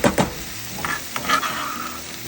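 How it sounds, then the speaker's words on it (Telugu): Ginger, garlic and green chilli paste frying in a pan, with a steady low sizzle broken by a few scraping stirs and clatters of a spoon against the pan. "ఈ అల్లం వెల్లుల్లి పేస్ట్ ఫ్రై అయ్యేలోపు"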